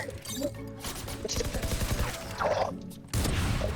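Gunfire in the video game Valorant sounds in rapid bursts and sharp cracks, with mechanical clicks and a loud blast near the end, while players talk excitedly over the action.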